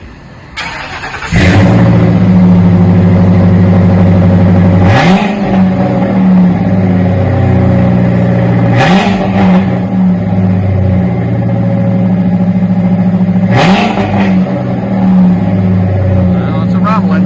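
A 1977 Ford F150 V8 fitted with Flowmaster 40 mufflers fires up and holds a loud, steady rumbling idle, with four sharp throttle blips that rise and fall at roughly four-second intervals.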